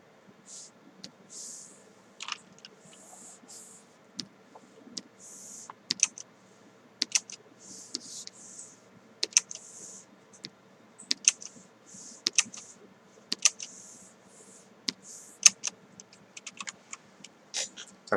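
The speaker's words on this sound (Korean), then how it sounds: "키보드 F8을 눌러서 플레이" Computer keyboard keys pressed in a quick, irregular run of sharp clicks throughout, close and fairly quiet, with no speech.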